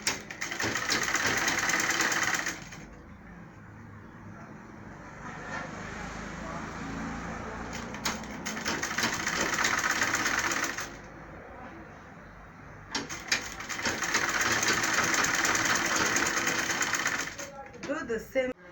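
An electric sewing machine stitching a gown bodice runs in three long, steady whirring bursts separated by quieter pauses where someone talks, close and clear.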